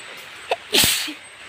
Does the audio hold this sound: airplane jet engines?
no